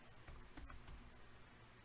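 Computer keyboard keys clatter in quick, uneven bursts of typing, close and moderately loud, with no one talking during the sequence.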